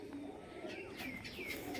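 A pigeon coos faintly and steadily in the background against a constant low hum of the surroundings, with no talk.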